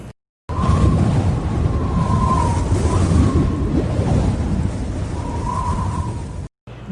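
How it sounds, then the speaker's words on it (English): Wind roars in a steady, rough rush with low rumbling gusts and a faint whistling tone rising and falling, loud and continuous with no voices. "Wind sound."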